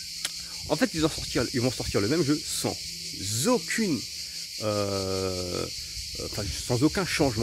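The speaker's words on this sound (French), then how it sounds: "les cigales en fait ça me gêne pour parler" Cicadas keep up a steady, loud high-pitched buzzing drone outdoors throughout, running beneath someone speaking French continuously.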